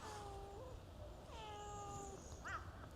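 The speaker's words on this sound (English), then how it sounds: "there is a cat. I hear a cat." A cat near a stairway outdoors gives two or three distinct meows, faint and somewhat distant, over quiet low background noise.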